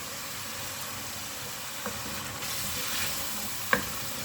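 Chicken karahi gravy frying in a pan, a soft continuous sizzle with a couple of faint utensil knocks and one sharper clink near the end, no voices.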